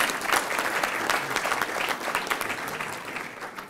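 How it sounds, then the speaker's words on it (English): Audience applause for a newly introduced speaker at a Chicago Tribune elections preview event, a steady sustained roomful of clapping with no speech over it. "Give him a round of applause."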